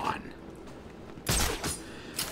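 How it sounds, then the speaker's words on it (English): A gunshot cracks from a bell tower in Batman: Arkham City, a sudden loud burst followed by a shorter echoing report and a faint later tail. "The gunshot came from the bell tower."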